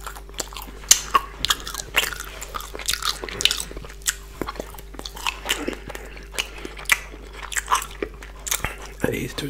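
Close, wet chewing and biting sounds from eating fish balls, Chinese sausage, napa cabbage and rice, with repeated soft crunches and squishy bites in an irregular rhythm over faint steady hum.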